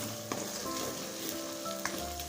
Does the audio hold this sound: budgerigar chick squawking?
no